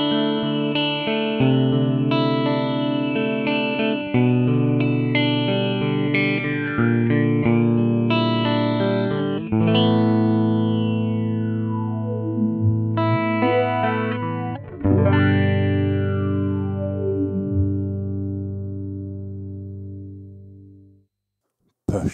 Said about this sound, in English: Change the mix and speed sweep to get this light envelope phaser sound.